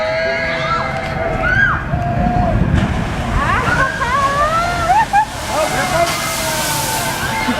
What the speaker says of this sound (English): Here's a full boat going on at the splash ride.